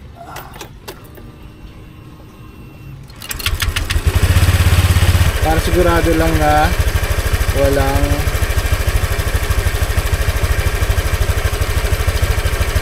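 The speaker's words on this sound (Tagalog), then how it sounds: "Bubuksan natin yung makina." A Honda Click 125i scooter engine starts up and idles with a steady, loud rattling drone, and someone speaks briefly over it.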